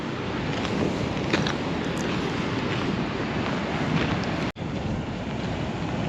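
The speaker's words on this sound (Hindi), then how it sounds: "बाकी भागीरथी की धारा तो दिख रही है।" The Bhagirathi river flows near the Gaumukh glacier below Gangotri, a steady, loud, broadband rushing roar mixed with wind buffeting the microphone and one brief dropout.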